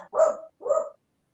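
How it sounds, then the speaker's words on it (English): Two loud dog barks close by, each lasting about a third of a second with a brief pause between them, and no talking. "they're barking so loud I can't even hear you"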